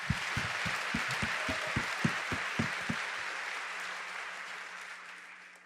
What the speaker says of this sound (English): Please join us in giving them a round of applause as well.